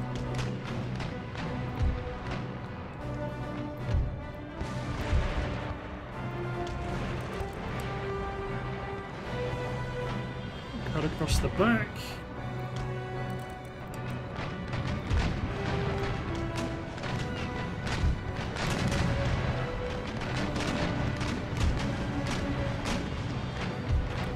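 Cannon and artillery fire in a naval battle in Empire: Total War, heavy booms and crashes rolling continuously over a dense, loud game soundscape with music, lasting throughout.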